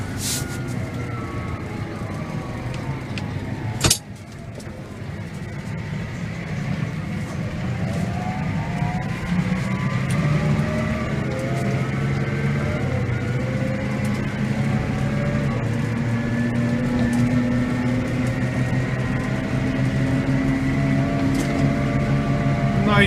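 A tractor with a sprung front axle drives fast while spreading cattle manure in February, giving a loud, steady engine drone throughout, with one sharp knock early on and no speech.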